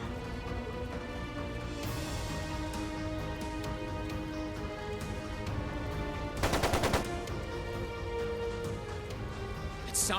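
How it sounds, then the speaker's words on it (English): Machine gun fire in the video game Trails of Cold Steel II rattles amid a continuous background of game music and effects, with a denser burst of rapid shots midway, moderately loud. "It sounded like a machine gun."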